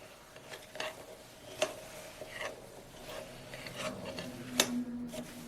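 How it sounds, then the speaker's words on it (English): Homemade fishing pack bait mix is stirred with a spoon in a bowl: soft, irregular scraping and gritty rubbing strokes, close and quiet, with occasional sharper clinks of the spoon against the container. "Let's mix that in just a little bit."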